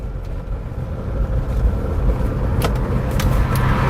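A 2001 SsangYong Musso 4x4 turbo diesel, its turbo boost turned down, drones steadily while driving, a loud low engine and road rumble rising slightly in intensity with faint higher clicks and rattles over the top.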